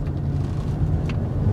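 A Toyota Camry 2.5 V accelerates on a test drive, with a low, steady engine and road rumble heard from inside the cabin at moderate level.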